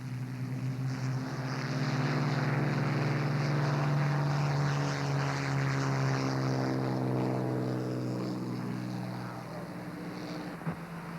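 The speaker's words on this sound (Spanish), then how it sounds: "aquella ala elíptica del Spitfire, surcando las alturas empujada por la endiablada potencia de los 12 cilindros del motor Merlin, de Rolls-Royce" A Supermarine Spitfire powered by a Rolls-Royce Merlin 12-cylinder engine drones overhead, a loud, sustained propeller-engine roar with a steady throbbing tone that swells and then slowly fades.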